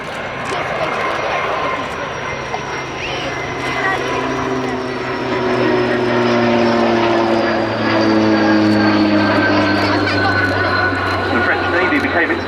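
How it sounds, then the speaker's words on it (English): A Morane-Saulnier MS-760 Paris, registration F-AZYI, leads a formation of historic French Navy aircraft past the crowd at an RN Yeovilton air show, a loud, sustained engine roar that swells and slowly shifts pitch as they pass, while a commentator talks over it. "the MS-760 F-AZYI, leads the formation through once again"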